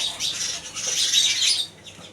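Sparrows chirp and twitter in a busy, high, continuous chorus at a paan shop in Ambarama village, Porbandar, that serves as a sparrow house with nesting boxes. No talking is heard.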